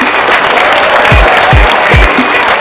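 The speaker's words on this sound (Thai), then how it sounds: "เสียงปรบมือให้กับเพื่อนๆทุกคนด้วยครับ" Audience applause at an Iron Chef Thailand cooking competition's offal battle: a loud, steady, dense round of clapping from a crowd that fills the whole moment without a break.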